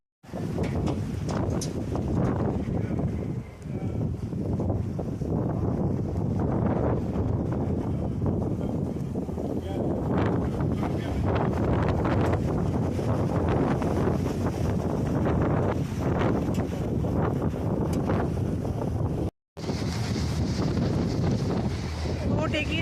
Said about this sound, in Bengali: বোট এগিয়ে, আমাদের ক্রুজ এগিয়ে চলেছে।